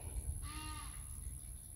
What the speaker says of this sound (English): That's the loud Egyptian goose.